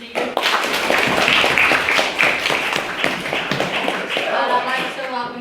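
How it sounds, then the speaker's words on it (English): An audience at a student debate gives a round of applause, a cluster of claps mixed with shuffling and a few voices talking over it, fading toward the end as speech takes over. "have a second round of applause for Maiden Speaker?"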